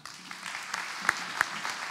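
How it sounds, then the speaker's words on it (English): An audience at an economic development event gives brief applause, a short burst of scattered clapping with a few sharp louder claps standing out. "Big round of applause for Danielle."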